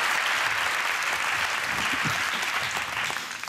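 A studio audience applauds warmly for two singers on a Taiwanese variety show, a steady full clapping that holds evenly and starts to thin out only at the very end.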